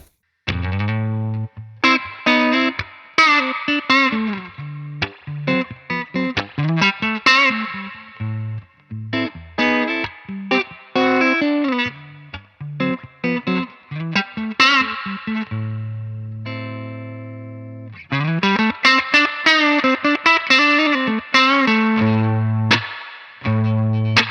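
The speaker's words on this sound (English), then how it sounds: "I'm just gonna play like a sort of push clean thing with reverb" An electric guitar played with a pushed clean tone and reverb through a Fender Deluxe 65 amp, ringing chords and melodic runs with sustained notes and brief pauses, loud and close with no talking.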